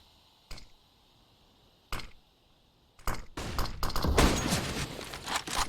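Rifle and Desert Eagle pistol fire in a competitive Counter-Strike match. Two isolated sharp shots give way to a dense, rapid burst of gunfire exchanges.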